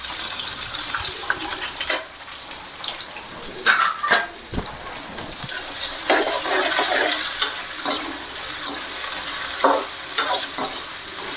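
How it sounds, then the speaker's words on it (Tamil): Onions and tomatoes sizzle and sauté in a pan for mutton head curry, a steady close frying hiss broken by stirring scrapes and clatters, with no talk. "நல்லா வெங்காயம் வதங்கிட்டுருக்கு இப்போ அப்படியே ஒதுக்கி விட்டு தக்காளி போட்டுக்கலாம்"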